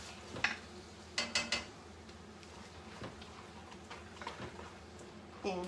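A spoon scrapes and clinks against the side of a pot while a loaded casserole is stirred, a few sharp metallic taps followed by softer scraping, quiet and close.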